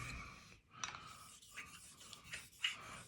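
A Gold Dollar straight razor is honed on a 5000 grit stone, making quiet, close rasping strokes in a steady back-and-forth rhythm with short pauses between passes.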